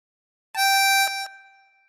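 A single sustained reedy harmonica note blown on hole six, bright and steady, swelling in then fading out over about a second, alone with no talking.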